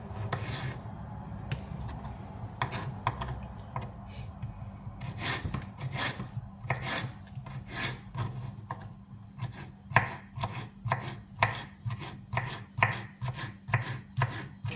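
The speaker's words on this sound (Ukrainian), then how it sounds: "Тепер беремо, ріжемо маринований огірочок." A knife chops pickled cucumber on a cutting board at home, a long run of crisp, close, rhythmic cuts with short pauses, quickening toward the end.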